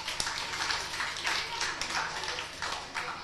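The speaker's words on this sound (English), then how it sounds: "Give him a round of applause." A live theatre audience applauds a volunteer at a 1995 stage magic show, with a steady wash of many hands clapping at moderate loudness and a few sharper claps standing out.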